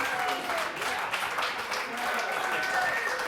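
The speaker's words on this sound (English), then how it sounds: "I would like another round of applause for the family that just did that song." A crowd applauds steadily at a poetry night in a grange hall, a dense wash of clapping filling the room without pause.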